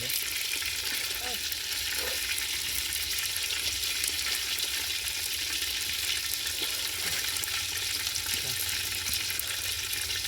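Fish frying in oil, a steady broadband sizzle that holds evenly throughout, with faint bubbling and occasional soft clinks, at moderate level close to the pan.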